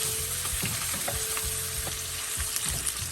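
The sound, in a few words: prawns frying in a pan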